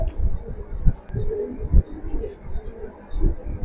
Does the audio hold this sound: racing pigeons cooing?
yes